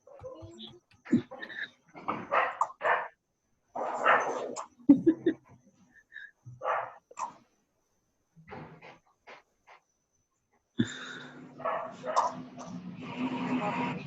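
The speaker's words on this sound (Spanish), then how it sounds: "Ellen, de comer a ese perro que está ahí ladrando" Dog barking and whimpering in a home heard during an online biochemistry class, intermittent yips and barks scattered among people talking, fairly quiet and somewhat distant.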